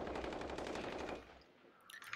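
Rapid automatic gunfire in Call of Duty: Modern Warfare, a loud sustained burst that cuts off sharply and leaves a brief lull before a few fainter shots and game effects follow.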